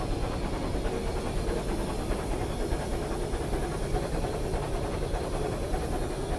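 The steam locomotive Taw Valley, running with the Orient Express, lets off a steady, continuous hiss of steam that stays broad and even throughout, with no one speaking.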